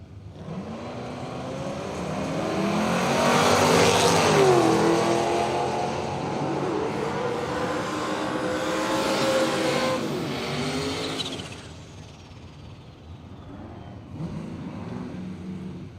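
Red Holden Ute, the Armstrong Racing entry, roars down the drag strip at Willowbank Raceway, its engine loud and revving hard for several seconds with rising harmonic sweeps, then fading as it pulls away.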